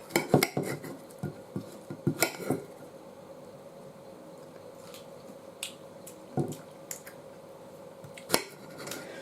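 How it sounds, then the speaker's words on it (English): Sharp knife taps and chops on a board while pineapple segments are halved and quartered for a pizza topping, a few quick clustered cuts early on, then sparser single knocks over quiet kitchen background. "Cut these segments in half or quarter them"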